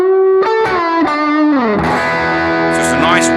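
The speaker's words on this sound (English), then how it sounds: "Just a nice warm, thick distortion." An electric guitar through a BOSS GT-1000 Core with the amp's own gain pushed gives warm, thick distortion: a few sustained picked notes, then a bending, sliding chord that rings out loud and saturated.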